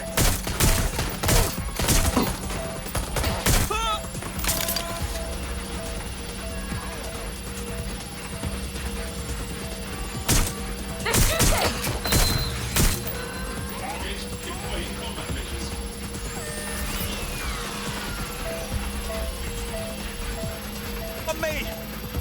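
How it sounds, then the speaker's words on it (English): Bursts of gunfire in the Watch Dogs Legion game, loud sharp cracks clustered near the start and again mid-way, mixed with shouting voices and a constant background hum. "Shots fired! Shots fired!"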